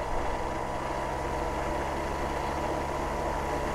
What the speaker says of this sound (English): this is a 7-inch prop as the load, and 2200 RPMs is our output as it's running